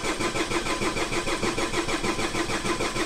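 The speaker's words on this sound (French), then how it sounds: "J'ai failli mettre en route la voiture et elle a failli mettre en route." A Renault Scénic 2 with a 1.9 dCi diesel engine and an injection fault cranks steadily with a rhythmic, pulsing churn that nearly catches but never fully starts, heard close from inside the car.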